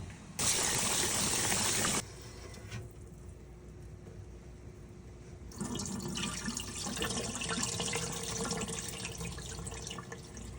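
Running water rinses salmon roe in a colander, a loud hissing gush at the start that drops to a softer trickle and then swells again into a steady splashing flow, with no talk.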